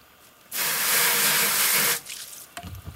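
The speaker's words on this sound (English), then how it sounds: "I give it a final rinse." Tap water gushes into a compost bucket to rinse it, a loud steady rush lasting about a second and a half before cutting off, then a few faint knocks and splashes.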